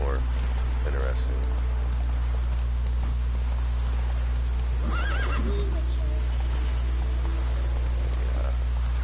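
A horse in the Witcher 3 video game neighs and whinnies a few times over a steady low rumble, with rain-like patter and soft hoof clops in the background.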